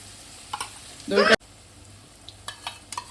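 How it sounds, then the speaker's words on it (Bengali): Whisked yogurt hits a frying Bhola fish curry masala in a pan with a short, loud sizzling burst lasting under half a second, then it drops to quiet stirring with a few faint clicks. "দইটা দিয়ে আমি আবারও মিনিট খানেক কষিয়ে নেব"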